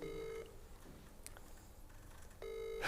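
An outgoing phone call's ringing tone comes through faintly: a steady tone, a quiet gap with small clicks, then the tone again. No one speaks.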